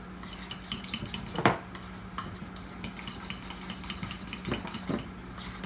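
Avocado is mixed with mayo and salt in a bowl, giving soft, quiet scraping and tapping of a utensil, with a few sharper clinks against the bowl at an irregular pace.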